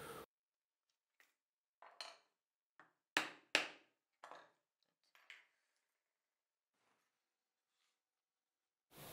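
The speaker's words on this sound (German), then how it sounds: "Jetzt nicht auf dem Metallblock nieten, sondern wirklich auf dem Holzblock wieder die Löcher einschlagen." Leather for a combined leather and Kydex knife sheath is having holes punched into it on a wooden block rather than a metal one. About eight sharp, irregular knocks and taps ring out close by, separated by silence.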